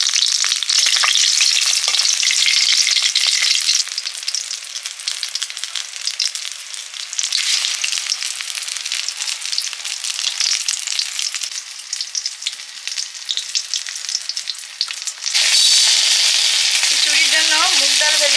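Boiled seeded-banana pieces dipped in gram flour batter deep-fry in hot oil, a loud, continuous crackling sizzle that dips briefly and then surges again as more pieces go in.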